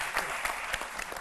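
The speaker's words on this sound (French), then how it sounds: "quand vous voulez dire oui, c'est par des applaudissements" A television studio audience claps together in an even, fairly loud burst of applause that continues without a break through the whole short stretch.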